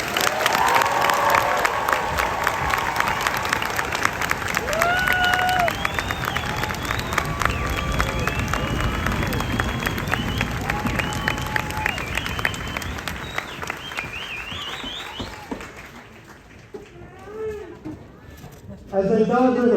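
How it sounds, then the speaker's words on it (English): A large crowd claps steadily in sustained applause for soldiers at a basic combat training graduation, loud and dense, fading out toward the end with scattered voices and bird-like chirps. "please join me in a round of applause for these American soldiers"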